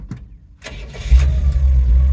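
An imported US car's engine warm-starts: a short starter crank after a quiet gap, then the engine catches and settles into a loud, steady close idle.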